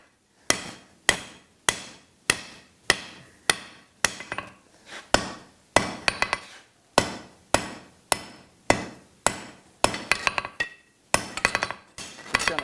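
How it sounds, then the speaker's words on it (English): A hammer strikes a hot steel hatchet blank with its flat face to work the taper smooth. There are about twenty sharp, ringing blows, close and loud, in a steady rhythm with short pauses, and no voices. "again with the flat side of the hammer"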